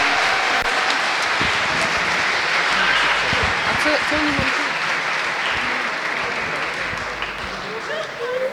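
A crowd at an engineering competition closing ceremony applauds the case study participants with a sustained round of clapping. Scattered voices and shuffling mix in, and the applause thins slightly near the end.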